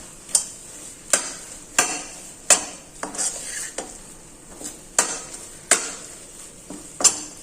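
Spoon stirring thickened mango barfi mixture with cardamom in a pan, with sharp regular scrapes and clinks against the metal roughly every half second over a soft sizzle.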